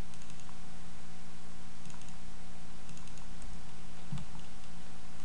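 Computer keyboard typed during AutoCAD drafting while entering a trim command, giving a few faint, scattered key clicks over a steady low hum, with no talk.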